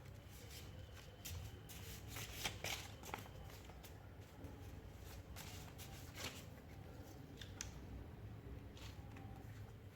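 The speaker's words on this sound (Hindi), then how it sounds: "और मैं शफल करूँगी इन कार्ड्स को।" Tarot cards are shuffled close by, making a soft, continuous papery riffle and flicking. The sound is faint and uneven, with brief sharper snaps and no voice over it.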